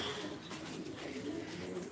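A racing pigeon coos softly amid steady background noise at a race basketing, its low murmuring calls faint and continuous with no talk.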